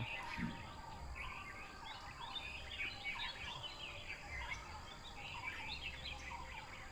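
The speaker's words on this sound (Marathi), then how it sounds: "आजूबाजूला पक्ष्यांची किलबिलाट आपल्याला ऐकायला येते" Birds chirp and twitter softly in the distance in a calm Konkan village setting, steady faint calls over a quiet background hum.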